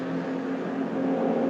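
The number 36 BMW Z4 race car of Walkenhorst Motorsport runs in a 2017 VLN endurance championship race, its engine a steady, loud buzzing drone that holds an even pitch throughout with no voices.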